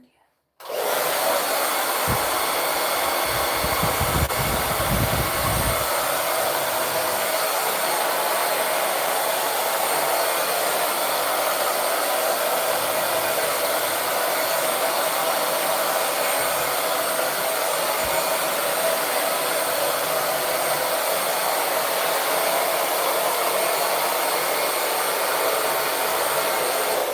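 A hair dryer runs continuously at close range, blow drying very long, tailbone-length 4c hair, a loud steady whooshing whine that starts abruptly and holds without pause, with faint handling bumps early on.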